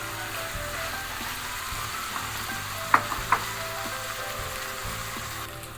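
Tomato pieces go into a pan of frying lasagna sauce, setting off a steady close sizzle with a couple of brief clinks of a spoon against the pan partway through.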